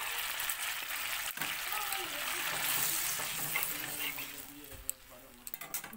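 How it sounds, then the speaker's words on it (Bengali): Malai prawn curry with coconut milk bubbles and sizzles in a pan over a high gas flame, a steady dense hiss with a few stirring knocks near the end, no talk. "এবারে আমি গ্যাসের আঁচটাকে হাই করে দিয়ে কিছুক্ষণ ফুটিয়ে নেব।"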